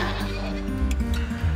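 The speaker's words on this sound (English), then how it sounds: "And the goats can hear us down there. They're all screaming." Farm animals calling out near a group of people, with an animal bleat or whinny carrying over a brief, fairly quiet stretch alongside soft background noise.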